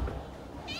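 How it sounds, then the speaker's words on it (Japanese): A newly arrived cat gives a short, close meow near the end of a brief moment of faint background murmur. "新しい猫ちゃん。"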